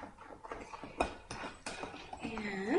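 Blueberry muffin batter being stirred in a bowl, with spoon scrapes and clinks against the sides in short irregular bursts, close and moderately loud, a voice speaking over part of it.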